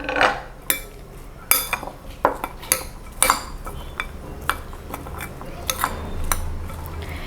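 A spoon knocks and scrapes against a bowl while tossing a mixed vegetable salad with grated coconut, producing sharp clinks at an uneven pace over a soft rustling background, close and without speech.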